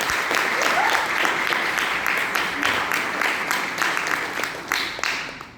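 An audience claps in steady, dense applause for a pastor at a church gathering, loud and continuous throughout with faint voices mixed in.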